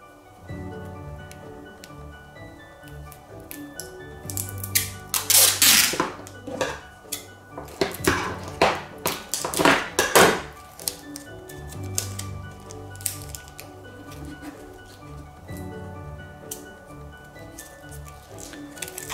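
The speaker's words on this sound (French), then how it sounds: "Donc là on va prendre tout simplement du scotch transparent." Clear tape is stripped from a roll for a handmade notebook in a run of sharp, crackly pulls and clicks, close and moderately loud, between quieter stretches.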